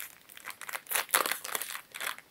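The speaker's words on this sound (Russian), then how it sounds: "давайте откроем вот этот пакетик." A crinkly plastic surprise packet is torn open and handled, giving a run of close, loud crackling and rustling bursts that rise and fall with no one talking.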